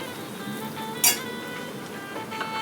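Homemade Agri Koli masala chili powder sizzling in hot oil for crab curry, a steady soft frying hiss with one brief metallic clink of a spoon against the pan.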